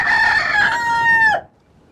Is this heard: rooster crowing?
yes